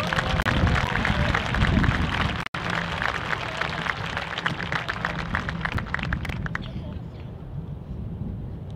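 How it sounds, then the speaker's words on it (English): A crowd applauds at an outdoor East Pennsboro Area High School graduation ceremony, honoring graduates bound for the U.S. Marine Corps. The clapping is dense and steady with crisp hand strikes, then thins and fades toward the end. "Please give these graduates a round of applause for their future service to our country."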